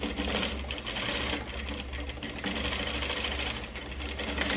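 A straight-stitch sewing machine runs steadily, stitching the front-to-back seam of a trapeze dress with puff sleeves, with a constant close whirring rattle for the whole stretch and no voices.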